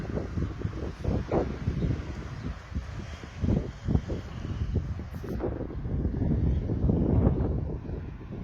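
Gusty wind buffets the microphone outdoors in uneven surges, rumbling and rushing without pause, while sailing a small model trimaran.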